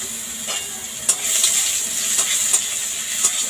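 Finely chopped onion dropped into hot oil, crackling and sizzling steadily up close, with a few sharp stirring scrapes punctuating the hiss.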